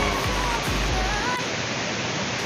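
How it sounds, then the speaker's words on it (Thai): Than Sawan waterfall in Doi Phu Nang National Park, Phayao, Thailand, roars in a loud, steady hiss of rushing water that fills the whole stretch, with a brief low rumble early on. "เสียงน้ำตกดังชัดเจนครับ"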